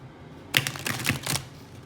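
Stiff new tarot cards being shuffled, giving three or four quick papery riffles and snaps close by, with quiet pauses between them.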